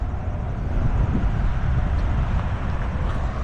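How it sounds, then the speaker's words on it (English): Steady broadband rumbling wind buffets the microphone, a continuous low roar with no voices. "It gets so windy now."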